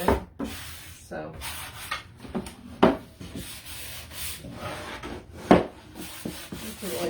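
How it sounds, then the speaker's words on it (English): Sandpaper rubbed by hand over a wooden Santa sign, paint coming off easily: repeated scratchy strokes in an irregular rhythm, close and fairly loud, with brief pauses between passes. "this is like the easiest sanding I've done in a while. It just like comes right off."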